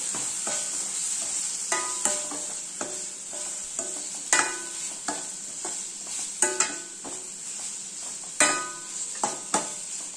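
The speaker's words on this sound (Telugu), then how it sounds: "Tomato, onion, green chilli, coriander powder వేయాలి. వేసి ఇవి కూడా బాగా వేగనివ్వాలి." Tomato, onion and green chilli fry with coriander powder for dal tadka, giving a constant high sizzle. A spoon clinks and knocks against the metal pan every second or so, with no talk.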